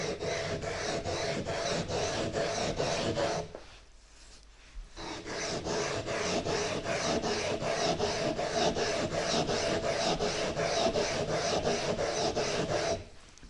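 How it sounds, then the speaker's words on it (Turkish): Fine grinding of a telescope mirror with 120 grit abrasive gives a steady rhythmic rasping of back-and-forth strokes, close and continuous, with a brief pause partway through. "Düz çalışma, ince aşındırma böyle."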